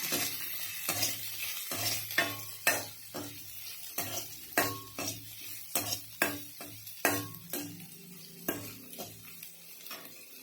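Onions frying in a pan with repeated rhythmic stirring strokes, each scrape and clink rising over a soft continuous sizzle, close and moderately quiet.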